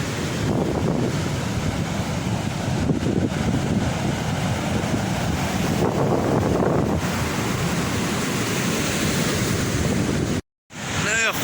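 Rough December sea with whitecapped waves breaking on the shore, a loud continuous surf roar mixed with heavy wind buffeting on the microphone, briefly cutting out near the end.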